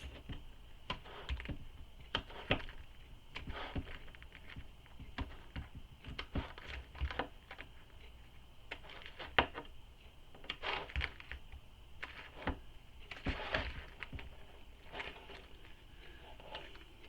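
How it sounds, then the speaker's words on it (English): Scissors snip into the seam allowance of fabric for a circular bag, giving a run of quick, close, crisp cuts in irregular bursts with short pauses between them. "So now I'm going to add those little snips, and I just go between my clips."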